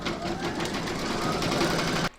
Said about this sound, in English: Pop your hoop into your machine and stitch round number 8 to secure it.